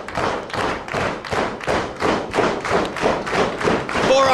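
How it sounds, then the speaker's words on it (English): A wrestler throws forearm strikes at an opponent in the turnbuckle during an independent wrestling match, a rapid series of about nine dull thuds roughly every half second, loud and close over a noisy crowd. "Forearm shot in the turnbuckle."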